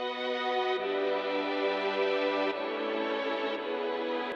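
A Mellotron preset from Analog Lab 5, drenched in heavy reverb, plays sustained, rich chords that shift twice, a huge wash of tone that fills the gaps between changes, with no voices.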